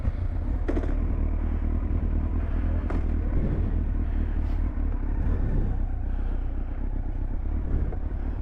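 A Kawasaki Z1000 motorcycle with a baffled exhaust rides off, its engine a steady, loud rumble over continuous road and wind noise.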